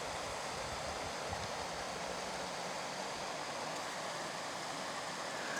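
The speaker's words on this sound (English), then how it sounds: "where the creek is down there." A creek flows below a roadside in the woods, a steady broadband rush of water that is continuous and fairly faint, with no voices or other distinct sounds.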